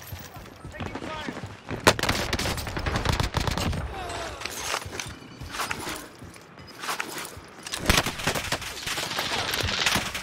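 Repeated bursts of automatic gunfire in a shooter game featuring the Owen gun, sharp cracks and rattling volleys trading back and forth at close and mid range, with footsteps between the bursts and a few sharp loud shots standing out.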